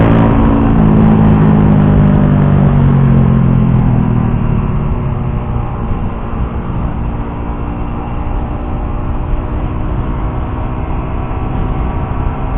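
A loud, continuous Yamaha R15 sport motorcycle engine roar with a rumbling low end, steady and close throughout, slowly settling slightly lower in intensity toward the end.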